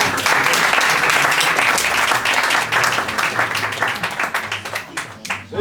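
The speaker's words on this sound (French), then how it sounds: "on peut les applaudir." A Paris improv festival audience applauds the performers of Comédia! with dense, steady clapping that fills the room, then thins and fades toward the end.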